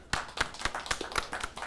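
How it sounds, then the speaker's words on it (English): Game show audience applause, a short burst of rhythmic hand claps at moderate level, roughly eight distinct claps in under two seconds. "Another round of applause for Austin."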